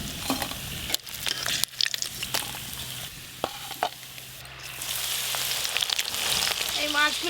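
Amudi fish pakoras fry in hot oil with a continuous, close crackling sizzle, broken by several spatula knocks and stirring scrapes against the pan.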